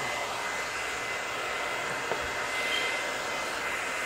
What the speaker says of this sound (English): We're using our professional friction hair blower here.